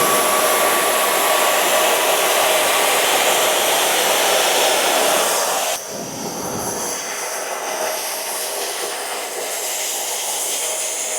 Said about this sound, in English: So we always want to go in the direction that we're going to blow dry.